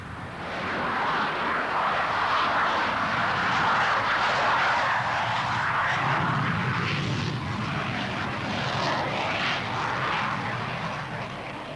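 A jet fighter from Kadena Air Base on Okinawa roars overhead, a loud continuous broadband rush that swells and then slowly fades, with no talking.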